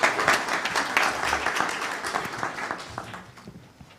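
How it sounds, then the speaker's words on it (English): A room claps for a speaker stepping up to the podium at a moot court competition opening ceremony, a dense burst that gradually fades over a few seconds. "May you clap for Stephen as he steps on the podium."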